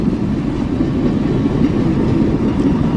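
A train hauled by Nickel Plate Road 765 steam locomotive passes in the Cuyahoga Valley, a loud, steady low rumble of rolling cars with faint rail clatter.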